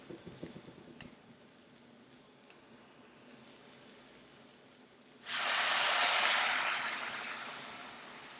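Stock poured into a hot soup pot while cooking asparagus soup: a loud, steady rush of hissing and sizzling starts abruptly after quiet moments with a few faint ticks, then holds strong and close before easing slightly.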